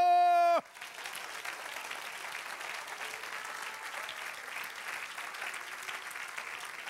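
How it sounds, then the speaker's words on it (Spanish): A church congregation at a Spanish-language service led by a pastor breaks into sustained, even applause. It follows a brief tonal sound at the start and continues steadily to the end. "¡Dale aplauso!"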